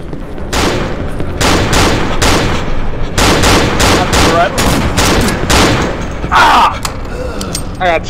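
Dense, rapid gunfire from the co-op horror video game Cry of Fear comes in loud repeated volleys and bursts with heavy thuds, and voices talk under the shooting.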